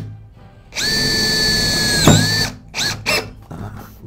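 Makita DF332 brushless cordless drill driving Type C screws into hardwood, a loud steady whine for about two seconds ending in a sharp bind as the screw seats, then two short bursts close by.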